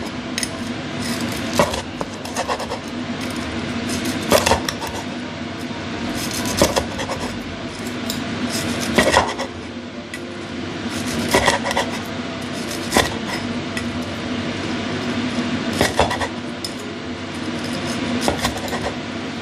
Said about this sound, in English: Can you hear the crispy sound?